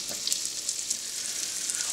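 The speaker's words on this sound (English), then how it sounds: "Hot beef in oil." Roast beef frying in hot oil, a steady close hiss and crackle of sizzling fat that runs without a break, faint with small pops scattered throughout and no voices.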